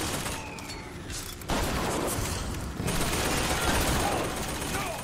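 Turret gunfire in BioShock Infinite, sustained rapid automatic bursts in waves that start and stop, fairly loud and continuous, with a voice speaking over the shooting.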